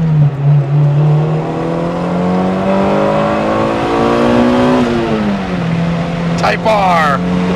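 Honda Type R engine revving up, a steady climbing tone that rises through the rev range, dips briefly and settles, with a short sharper burst near the end, loud and close.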